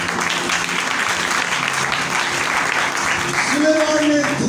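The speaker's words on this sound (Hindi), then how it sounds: "ताली दिखाए अपने।" A church congregation claps during a sermon, a continuous spread of applause, fairly loud, with a voice speaking over it near the end.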